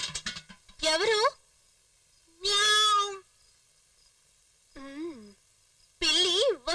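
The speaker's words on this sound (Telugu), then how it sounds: "ఏ పిల్లి వెళ్ళిపో" A cat meows in a domestic scene from a Telugu film, several separate drawn-out cries with gaps between them, fairly close and clear with no talk over them.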